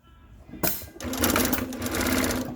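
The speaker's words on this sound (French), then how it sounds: "Point d'arrêt automatique à la fin et coupe-fil." A Dürkopp Adler industrial sewing machine running a seam with automatic backtack and thread trimming: a sharp mechanical clack, then a loud steady high-speed whirring stitch that holds close and strong to the end.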